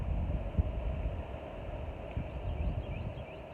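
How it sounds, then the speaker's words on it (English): Steady low wind rumble buffeting the microphone, continuous and fairly faint, with occasional gusty thumps and no voices. "It's really windy out here"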